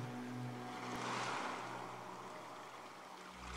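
Ocean surf rolls in a continuous soft hiss that swells gently and recedes, heard at moderate distance beneath low, sustained musical tones.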